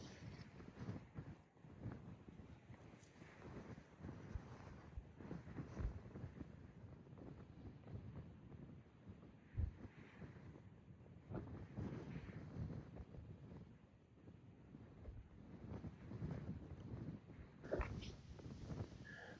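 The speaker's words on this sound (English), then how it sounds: "The wind was absolutely brutal." Strong wind gusting over a hillside during a mule deer bow hunt in Canada, a faint rumbling buffet of wind noise across the microphone with uneven surges throughout, no talking.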